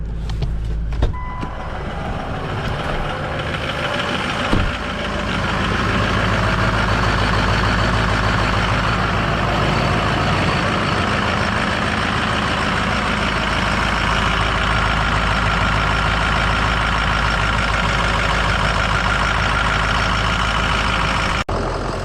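A DIY overland expedition truck's engine idles steadily and loud after being started, a low continuous rumble following a brief clatter at the start.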